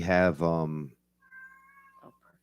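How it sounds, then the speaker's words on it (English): An indoor cat meows loudly and agitatedly, two drawn-out yowls close by, followed by a fainter high tone and a brief bump. "cat inside freaking out"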